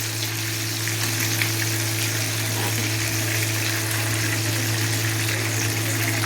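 Hariyali chicken tikka coated in green masala roasting in a pan gives off a steady close sizzle, with a constant low hum underneath and no one talking.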